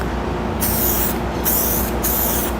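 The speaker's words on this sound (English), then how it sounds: "So in this case, we're gonna spray green." Spray can laying down a coat of green metal flake paint in three or four long bursts with brief pauses between them, a loud close hiss over a low background hum.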